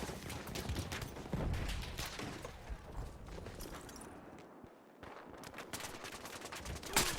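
Rapid bursts of submachine-gun fire from the RSC SMG in a Battlefield game, dense, crackling volleys running almost continuously, with a brief lull near the end before firing resumes.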